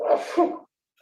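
One person in a courtroom gives a single sharp, close sneeze that lasts about half a second, followed by silence and a faint short sound at the very end.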